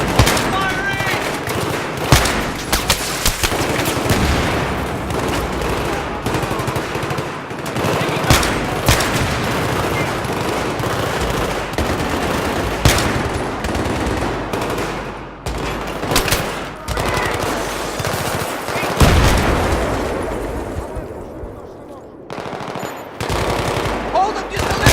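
Sustained bursts of automatic and single-shot gunfire from the Battlefield 3 video game, loud and dense throughout with rapid repeated shots and blasts, while voices shout orders underneath.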